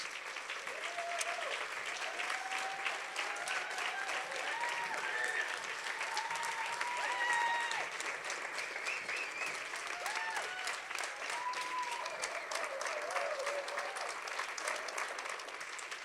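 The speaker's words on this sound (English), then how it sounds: "Please, a final applause for an incredible group of young people." An event audience gives a final round of applause for a group of young speakers, with steady, continuous clapping throughout and voices and cheers rising over it at times.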